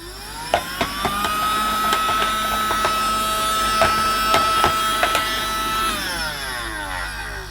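A Rowenta toy cordless vacuum cleaner by Smoby, held as a handheld unit, whirs up to a steady motor whine with rattling clicks of debris, then winds down at the end.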